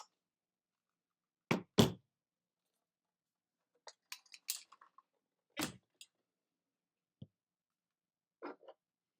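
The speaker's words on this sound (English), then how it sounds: "Press the magazine release lever and remove the magazine." Magazine release on an Umarex Legends M1A1 air rifle: sparse, sharp plastic and metal clicks and knocks, some in quick pairs, separated by silence in a quiet room.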